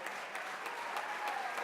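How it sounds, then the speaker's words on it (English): An audience claps for a couple celebrating their wedding anniversary, a brief, moderately loud patter of hands that carries on without pause. "Let's give a round of applause for Barbara"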